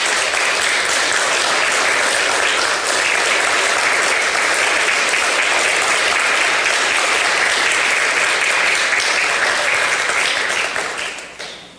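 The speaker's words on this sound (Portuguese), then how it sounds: "Dê uma salva de palmas para Jesus" A church congregation at a Sunday worship service bursts into sustained, dense applause for Jesus, loud and steady for about eleven seconds before tapering off at the end.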